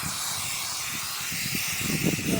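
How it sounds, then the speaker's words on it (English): Brake cleaner sprays from an aerosol can onto an engine part of a turbocharged Mk2 Supra, making a steady, close broadband hiss that grows slightly louder toward the end. "I'm going to yeah, wash it around with some brake cleaner"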